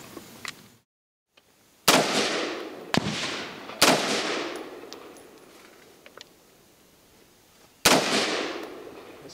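Loud single rifle shots from a Springfield Saint AR-15, four sharp cracks spaced unevenly across the stretch, each with a decaying echo tail; no talk.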